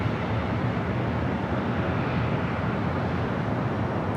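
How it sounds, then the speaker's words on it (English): United Airlines Boeing 787-10 Dreamliner taking off from the south side at LAX, a steady, dense jet engine roar heard at a distance with no voices. "that Dreamliner that was taken off on the south side, United Airlines flight 1855 heading to Newark"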